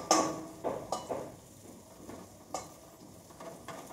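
Sliced bitter gourd frying in a covered pan, a soft sizzle broken by several sharp clinks and scrapes of a utensil against the pan, with no talking.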